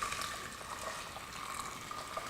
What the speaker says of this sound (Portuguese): posteriormente colocar essa água aqui fervida por cima deles